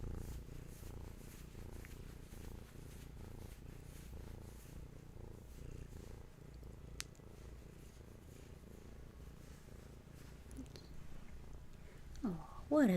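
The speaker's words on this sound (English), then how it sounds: "You brought the purrs." A cat purrs softly and continuously in a quiet room, a low, faint rumbling throb that runs steadily, with a brief voice near the end.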